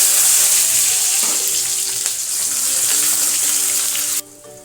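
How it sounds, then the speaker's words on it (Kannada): Mustard seeds and onion in hot oil for tomato saaru, a loud, dense hiss and spatter that continues steadily, then cuts off abruptly near the end, leaving a quieter background. "ಈಗ ಸಾಂಬಾರು ಮಾಡೋದಕ್ಕೆ ಎಣ್ಣೆ ಹಾಕ್ತಾ ಇದ್ದೀನಿ ಸ್ವಲ್ಪ ಸಾಸಿವೆ ಹಾಕ್ತಾ ಇದ್ದೀನಿ"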